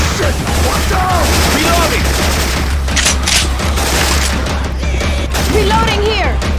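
Rapid, dense bursts of gunfire from Syphon Filter weapon sound effects in the zombie shooter Left 4 Dead 2, crackling continuously and loudly with short booms, mixed with game noise and faint voices.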